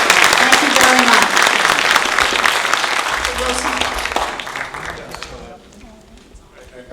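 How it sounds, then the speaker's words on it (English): A university staff institute audience claps loudly and steadily after a keynote, the applause slowly fading away toward the end. "let's have another round of applause"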